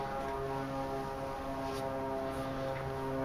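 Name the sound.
airplane flying in the distance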